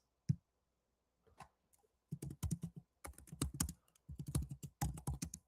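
Typing on a computer keyboard: a few scattered clicks, then quick bursts of keystrokes in uneven clusters, close and crisp.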